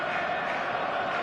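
Stadium crowd at a football video game match: a steady, dense roar of many voices and cheering, loud and continuous without a break.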